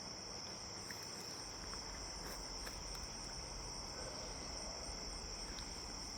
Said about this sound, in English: I'm hoping that the mic is picking up all the cricket sounds and the frog songs